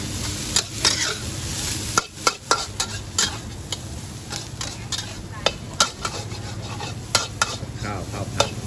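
Rice being stir-fried in a hot pan for a Thai made-to-order dish with kale and crispy pork, a steady sizzle broken by repeated sharp scrapes and clanks of a utensil against the pan, close and loud with no talk.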